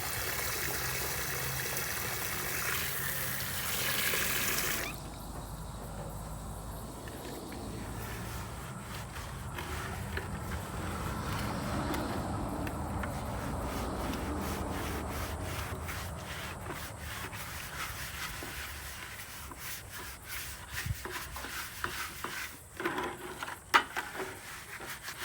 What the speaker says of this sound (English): time to wash the chicken water bucket